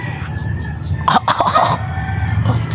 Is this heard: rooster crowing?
yes